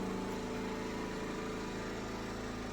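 A neighbour's leaf blower, power washer or lawnmower drones steadily in the background, a constant mid-pitched engine hum that stays even throughout with no talking.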